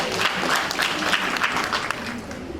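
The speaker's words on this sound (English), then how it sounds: "So please clap for yourselves." A conference audience of HR professionals claps for themselves, a dense, steady burst of applause from a room-sized crowd, close and even throughout.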